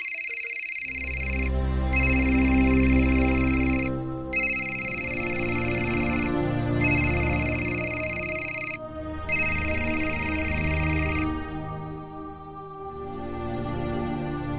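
A telephone rings loud and close in repeated electronic bursts, each several seconds long and separated by short gaps. The pattern continues until the ringing stops near the end, and no one speaks.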